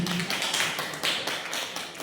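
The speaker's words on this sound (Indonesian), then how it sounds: "Tepuk tangan buat Pak Faisal" Applause for a presenter named Pak Faisal at a school positive-culture dissemination session, a dense, steady patter of many hands clapping at moderate level without a break.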